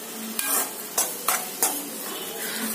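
Grated cucumber for chutney sautés in a pan with a continuous soft sizzle, while a utensil stirs and scrapes in four distinct strokes close by.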